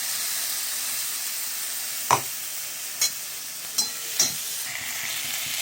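Fried eggplant in a pan with green chilli as spices go in, a steady soft sizzle running throughout, broken by four sharp clinks of a spoon stirring against the pan.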